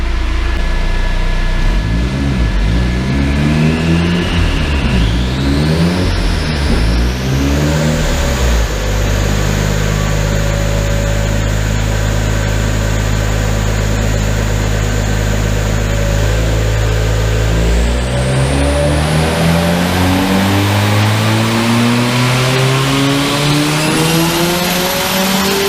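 A car engine revs hard on a rolling road dyno in fourth gear, pitch sweeping up and down in early bursts, then holding steady before climbing again in a long, loud continuous power run.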